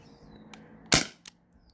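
A single sharp shot from a modified Umarex Brodax CO2 BB revolver fed by a 12-gram cartridge, a loud close crack followed by a fainter short report.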